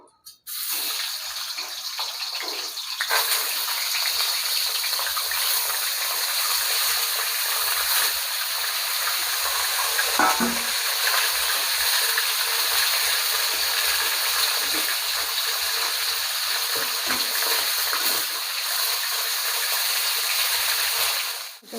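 A salted, turmeric-rubbed fish head drops into hot oil and fries with a steady, loud, hissing sizzle that runs nearly unbroken throughout, with no talking over it.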